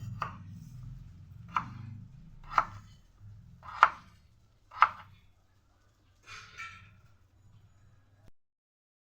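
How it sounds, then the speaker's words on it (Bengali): A knife cuts a potato into long pieces on a board with about five sharp, evenly spaced chops, each a crisp thud, followed by quieter handling sounds and faint background hum. "আলুটাকেও লম্বা লম্বা করে কেটে নেব।"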